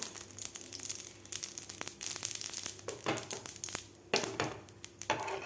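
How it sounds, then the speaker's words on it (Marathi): Mustard seeds spluttering in a little oil spread over a hot tawa, a quiet, dense run of sharp pops and crackles close by, with no one talking. "मोहरी आपली व्यवस्थित फुललेली आहे"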